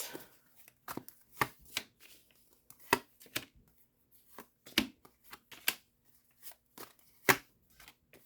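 Tarot cards handled and laid out, a string of quick close slaps and riffling snaps in irregular bursts with quiet gaps between.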